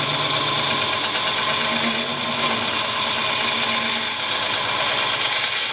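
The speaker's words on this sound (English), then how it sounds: "I'm going to move over to my carbide tools" A carbide tool hollows out a wooden bowl spinning on a lathe, producing a continuous, loud, even scraping and cutting roar with the motor's hum underneath, and no voices.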